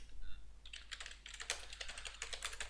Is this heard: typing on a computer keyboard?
yes